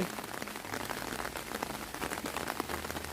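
Rain falls on a Thai vegetable garden in Hungary, a dense, steady patter of drops on leaves and ground, close and continuous throughout.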